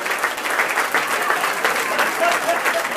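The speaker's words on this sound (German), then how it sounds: "Dafür nochmal einen riesen Applaus, liebe Birgit." Sustained applause fills the room at an anniversary celebration for longtime mountain hut hosts at a hut in the Rhön. Dense, steady clapping holds at a fairly loud level throughout, with no pause.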